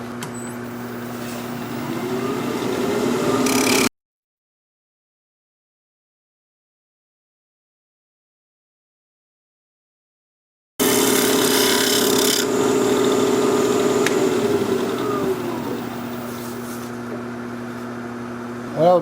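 A wood lathe spins a cherry live-edge mini bowl at high speed, a tool scraping and rasping against the wood in steady stretches broken by a long silent gap, with a voice speaking over it.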